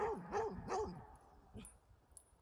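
A dog whimpers close by in three quick rising-and-falling whines, then falls quiet apart from faint background noise.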